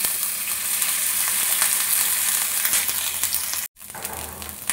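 Ginger sizzles in hot oil with whole spices — five-spice, bay leaves, dried chilli and a pinch of asafoetida — a loud, steady frying hiss with a brief cutout near the end.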